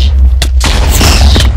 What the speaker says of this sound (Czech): Prostě nekonečno výbuchů